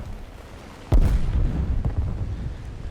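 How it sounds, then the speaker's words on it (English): A bomb dropped in a video game detonates in a single deep, booming explosion about a second in, followed by a rumbling tail and a fainter second thud. "The bombs drop in single drops."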